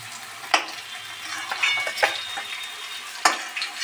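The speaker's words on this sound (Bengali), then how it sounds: "এটা ভালো করে ভাজা হোক দুই পাশ" Bottle gourd leaf parcels fry in oil in a pan with a steady close sizzle, broken by a few sharp clinks and scrapes of a utensil.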